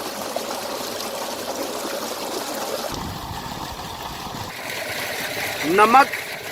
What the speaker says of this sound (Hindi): नमक के साथ इसको अच्छे से धोएंगे मिक्स करके।